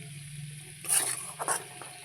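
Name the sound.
cauliflower curry being sautéed and stirred in pan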